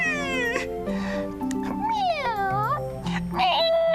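A voice imitates a cat, making drawn-out, wavering meows one after another, loud and close.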